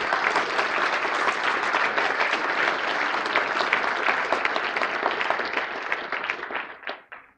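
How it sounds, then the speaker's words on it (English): A conference closing session audience breaks into loud, sustained applause, a dense crowd of clapping that holds steady for several seconds before thinning out to a few last claps. "Give Josh a round of applause"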